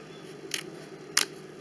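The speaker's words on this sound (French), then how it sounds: "On prend la paire de ciseaux et on coupe simplement." Two crisp snips of a pair of scissors cutting during a craft embellishment project, spaced about half a second apart, close and fairly quiet with no talk.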